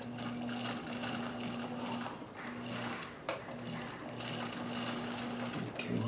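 A sewing machine stitches a jeans leg over thick seams, a steady close mechanical whir with a low hum and small clicks that pauses briefly and restarts, with faint talk.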